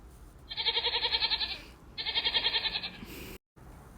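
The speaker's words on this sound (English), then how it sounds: "G is for goat." A goat gives two long, quavering bleats, each about a second long with a rapid wobble, loud and near with a short pause between them.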